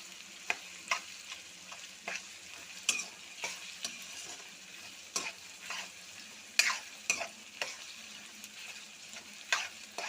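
Onion fries in a pan for zunka, a Maharashtrian gram-flour dish, with a steady soft sizzle under repeated sharp scraping and clinking of a spatula as it is stirred, close by and without talk.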